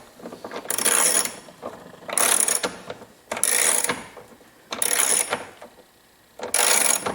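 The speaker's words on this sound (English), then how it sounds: "I'm going to tighten that one up" A ratchet tightening a bolt on a C5 Corvette door during a power window regulator replacement: five bursts of rapid clicking pawl chatter, each about a second long, close and loud, separated by short pauses with no talking.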